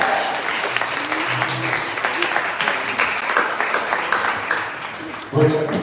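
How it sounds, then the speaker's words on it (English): Audience applause for a youth big band ensemble at a live jazz concert, with continuous clapping under some crowd chatter and a brief louder burst near the end. "how about a hand"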